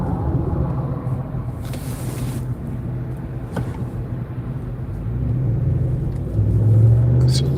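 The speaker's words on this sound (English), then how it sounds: "It's a large truck." A large truck drives past on the road, a steady low rumble that swells louder toward the end as it nears, heard from inside a moving car.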